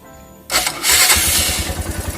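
A Suzuki Thunder 125 motorcycle engine cranks on the starter and fires up loudly, then settles into a rough, pulsing idle close by.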